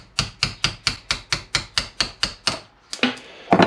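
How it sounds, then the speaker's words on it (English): A hammer and punch drive a pin out of a Moto-CNC adjustable foot peg assembly for a Yamaha R1 held in a vise, about a dozen evenly spaced sharp metallic strikes, close and loud, ending in a few irregular clanks. "So now I should just be able to punch it out."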